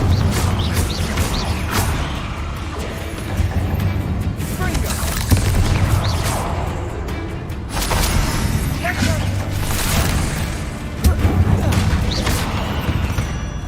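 Fire spell explosions in the Hogwarts Legacy video game, repeated booming blasts and crashes over a busy combat soundscape, with speech from characters mixed in.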